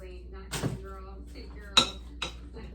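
A spoon stirs ingredients in a pot for a make-ahead dinner, giving three sharp metallic clinks and scrapes against the pot's side over a faint background hum.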